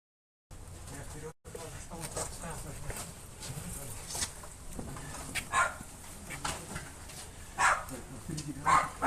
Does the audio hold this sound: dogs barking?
yes